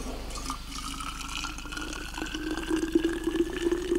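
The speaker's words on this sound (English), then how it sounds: "boiling the water for coffee and breakfast" Water heats in a pot on a camping stove for coffee and breakfast at a mountain tent site. A steady hiss and low bubbling carry on throughout, growing a little louder toward the end, with no talk.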